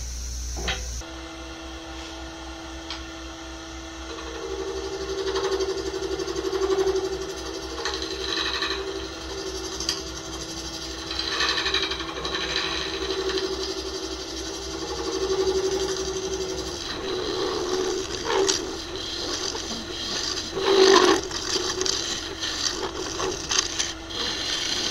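A wood lathe spins up a burl bowl blank epoxy-glued to a waste block, a steady motor whine with a low tonal drone holding for about thirteen seconds, then louder rough rumbling and knocks as the blank turns.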